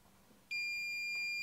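A Fluke 117 multimeter's volt alert held near a live AC plug sounds a steady, loud high-pitched electronic beep that starts abruptly and holds continuously.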